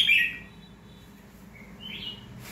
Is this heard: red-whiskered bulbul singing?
yes